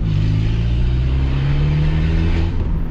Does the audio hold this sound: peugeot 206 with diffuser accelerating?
yes